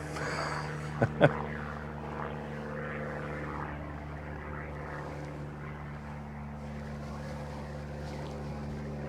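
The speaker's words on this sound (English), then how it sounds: "as the airplane goes by, we can cut that out" An airplane passes overhead outdoors, a steady, fairly faint broad roar that slowly fades, with two sharp knocks early on.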